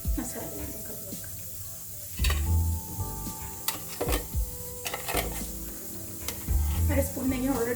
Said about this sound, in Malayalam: ഇപ്പോഴത്തേക്ക് അതിൻ്റെ കടുക് വറുത്തെടുക്കാം.